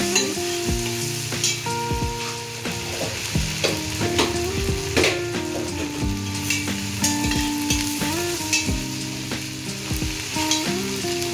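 Garlic paste and vegetables fry in a pan for a Bengali vegetable dish, a dense, loud sizzle punctuated by clattering stirs and spoon knocks, with steady tonal background music underneath.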